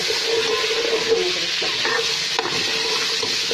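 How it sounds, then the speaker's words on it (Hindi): Garlic-ginger paste hits hot oil in a pan and is stirred, giving a steady close sizzle with scraping stir strokes throughout, no voices. "अब मैं इसमें डालूंगी लहसुन अदरक का पेस्ट, मिक्स हुआ है"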